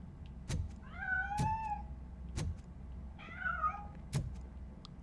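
A cat in the video game Robocop: Rogue City meows twice in drawn-out, rising cries, with several sharp thuds and clicks around the calls.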